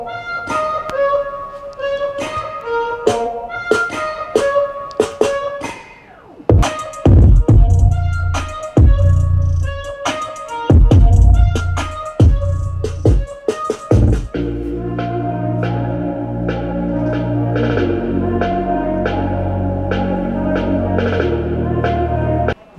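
Music playback test through a Zebronics 4.1 multimedia speaker system, loud and continuous with punchy bass hits and melodic tones, shifting to a denser sustained section partway through, no talking.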